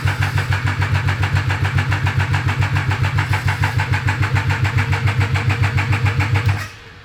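Triumph 955cc go-kart engine in an abandoned project kart, cranking steadily with a fast rhythmic chug and catching to fire, loud and close, for about six and a half seconds before cutting off.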